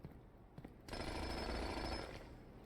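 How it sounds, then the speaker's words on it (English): A makeshift jackhammer digs in the video game Blue Prince, a loud, steady rattling burst that kicks in abruptly and hammers continuously for over a second before easing off, with no talking. "A makeshift jackhammer, more effective than the shovel excavation, digs deeper and finds better items"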